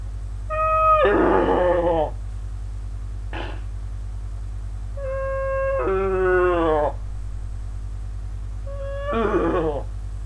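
A person imitates a horse's neigh, producing four separate whinny-like cries. Each is voiced and wavering, with short gaps between them and no other sounds in between.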